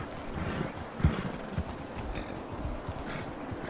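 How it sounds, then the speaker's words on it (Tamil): Horse hooves clip-clopping outdoors where many horses stand gathered, a steady irregular patter of hoof strikes at moderate distance under constant wind noise. "நிறைய குதிரை இருக்கு."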